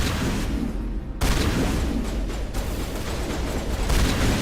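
Enemy gunfire in Mass Effect, a dense rattling fusillade of shots over a loud, continuous battle din with a sharp burst partway through.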